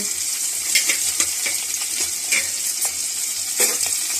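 Green chilies, onions and curry leaves fry in a pan with mustard and cumin seeds, giving a steady close sizzle broken by brief scraping stirs, with no voices.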